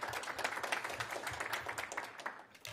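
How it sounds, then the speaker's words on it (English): A crowd at a DC Mayor's Office event breaks into scattered, moderate applause, steady clapping from many hands heard from a distance, with a faint voice underneath. "So give yourselves a round of applause for that."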